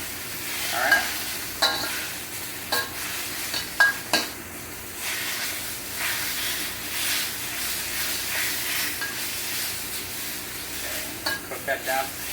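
Pork simmering down in its own rendered juice and marinade in a pan for a rice bowl, a steady bubbling sizzle with occasional sharp stirring scrapes and clinks close by.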